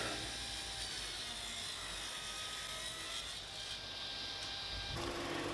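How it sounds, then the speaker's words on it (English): A steady high-pitched whine of a saw running through walnut and maple, continuous and fairly loud, with a brief shift in tone near the end. "And cutting them on the saw now."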